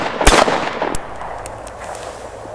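Two Walther P22 blank pistol shots fire in quick succession, under a second apart. The first is louder with a lingering echo, the second is a short crack.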